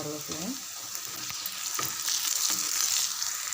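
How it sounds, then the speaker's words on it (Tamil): Onions sautéing in hot oil for a prawn gravy make a steady, close frying hiss, with a faint voice in the background and a few light stirring knocks. "வெங்காயம் பாதி அளவுக்கு வதங்கினா போதும்"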